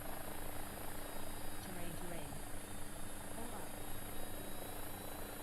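AW-109 helicopter flying in the X-Plane 12 flight simulator, its engine whine and rotor drone holding steady and loud throughout with no pauses, a continuous cockpit hum.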